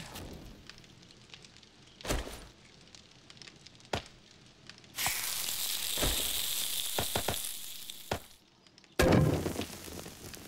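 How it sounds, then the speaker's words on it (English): Eggs and bacon cooking in the game 7 Days to Die, with a crackling sizzle in bursts between dull thunks and clicks, a loud frying stretch in the middle, then a final sharp burst. "Cooks up some more eggs and bacon"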